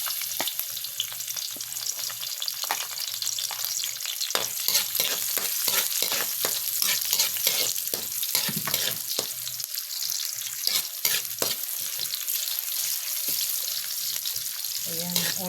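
Garlic sautés in a pan with a close, crackling sizzle, interrupted throughout by sharp clanking stirs of a utensil against the metal. Faint water sounds occur alongside.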